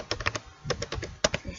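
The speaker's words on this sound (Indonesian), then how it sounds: "Langsung saja kita ketikkan node" Someone types a command on a computer keyboard: a quick close run of about a dozen crisp key clicks in short bursts with brief pauses, alone without talk.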